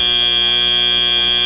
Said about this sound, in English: Make sure you don't move after the buzzer.